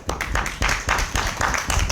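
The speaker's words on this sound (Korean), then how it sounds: "박수 한번 쳐주세요" A small seminar audience claps in a steady, moderately loud patter of overlapping hand claps for about two seconds, with no talking over it.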